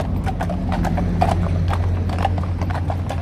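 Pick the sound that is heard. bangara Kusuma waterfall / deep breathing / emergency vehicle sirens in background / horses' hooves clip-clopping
horses' hooves clip-clopping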